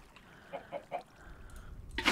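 Chicken in Minecraft making short clucking calls, a few soft evenly spaced notes followed by a louder burst near the end, against a quiet game background.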